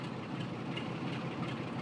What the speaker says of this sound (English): Class 47 with a heavily loaded oil train.